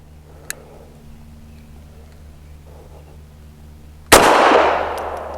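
A single close, sharp gunshot from a Bersa TPR 380 pistol at a shooting range, preceded by a quiet stretch and a faint click, with a long ringing decay afterward.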